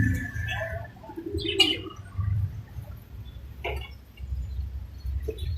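Pigeons coo softly nearby, low throaty calls repeating with short pauses, with a few faint chirps mixed in.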